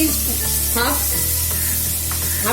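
Onions brown in a hot pan for Patiyala chicken, giving a close, continuous sizzle and crackle with a few soft stirring scrapes.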